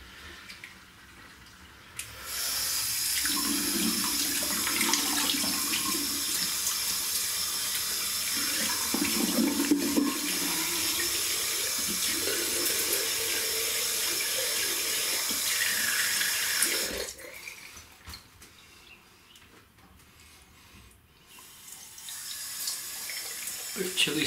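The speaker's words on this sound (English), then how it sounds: "Warm water rinse" A faucet runs steadily into a sink for over ten seconds, loud and close, during a warm water rinse. It shuts off, then water begins flowing again near the end.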